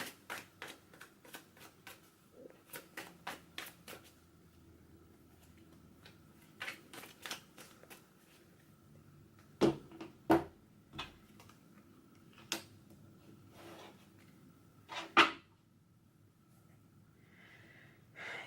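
Tarot cards are shuffled and a single clarifier card is pulled, a quiet series of soft ticks and flicks in irregular bursts followed by a few sharper snaps, close by in a still room.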